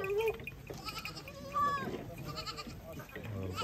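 Goats on a grazing goat farm bleat several times, with wavering, nasal calls rising over a noisy outdoor background at moderate distance.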